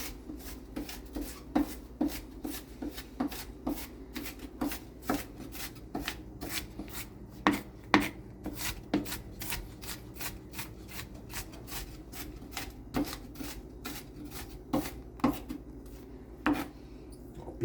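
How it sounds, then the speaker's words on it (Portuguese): A knife finely dices half an onion on a cutting board in a home kitchen, making steady, rapid rhythmic taps that stay fairly quiet and close, with occasional louder strikes and no speech. "Picamos aqui meia cebola."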